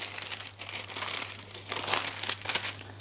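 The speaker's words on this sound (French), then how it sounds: "maintenant, je vais ouvrir mon beurre délicatement" A block of butter being unwrapped for pain au chocolat dough, its paper crinkling and crumpling close up in a steady run of soft rustles lasting about three seconds.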